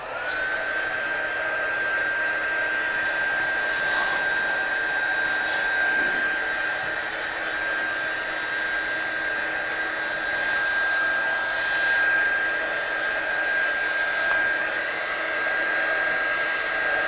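A hair dryer blows steadily on a watercolour stamping project, a loud, continuous close whir with a high whine that holds unchanged from start to finish.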